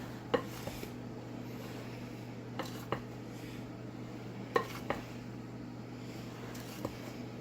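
DIY pollen substitute for bees being stirred in a container, giving faint, sparse clinks and scrapes against a steady low background hum, with no talking.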